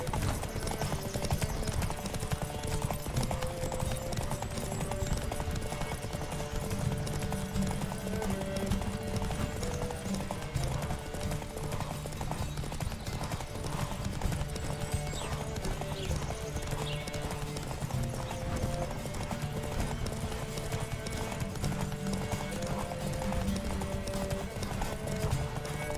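Horse hooves clip-clop steadily at a gallop with occasional neighs, set against a continuous game music score and battle ambience in The Witcher 3 video game; the rider's mount is pushed hard throughout.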